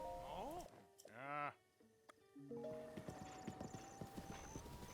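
Horse hooves clip-clopping in the Breath of the Wild video game near the Rito stable, a quick run of regular clopping steps following a neigh, set against game music and ambience.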